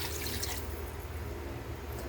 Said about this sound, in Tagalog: Sabawan na natin siya na guys na malinis na tubig.